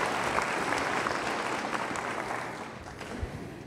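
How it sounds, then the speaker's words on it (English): Applause for military service members at a vocational nurses' pinning ceremony, a crowd clapping steadily and then gradually tapering off. "Please give them a big round of applause"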